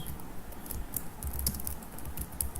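Quiet, steady typing on a computer keyboard: a run of soft, irregular key clicks at close range with no voices.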